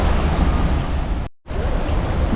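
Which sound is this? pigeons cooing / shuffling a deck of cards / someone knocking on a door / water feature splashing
water feature splashing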